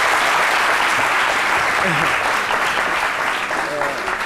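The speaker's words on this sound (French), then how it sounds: "Ça s'applaudit." Sustained applause from a studio audience on a French midday TV talk show, dense and steady throughout with faint voices underneath.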